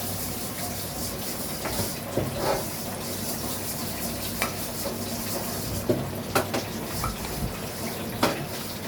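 Palm cake (taler pitha) fries in hot oil in a wok, a steady broad bubbling hiss with occasional soft pops and clicks, close and even throughout with no speech.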